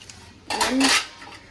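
A child playing with household pots and vessels at home sets off a short, loud clatter of metal cookware knocking together, close by and lasting under a second, with no talking.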